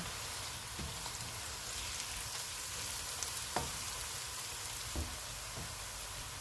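Steady sizzling of ginger garlic paste frying in hot oil with onions, a continuous crackle with a few soft clicks of a spoon stirring.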